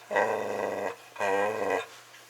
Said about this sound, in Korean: 지금 으르렁거리는 게 울프입니다